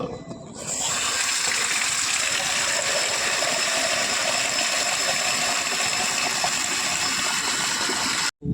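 Water splashing and gushing steadily as small cans are poured over dry garden plants outdoors, a continuous close, loud wash with no talk.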